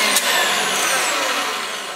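An electric mixer with a whisk beating chocolate cake batter at high speed, giving a steady, close whirring drone throughout with no talking.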